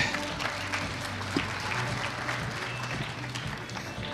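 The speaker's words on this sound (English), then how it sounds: "Another round of applause for our Pete." An audience applauds a presenter at a national ICT summit, a steady wash of clapping from a sizable crowd, heard at moderate distance with some murmur underneath.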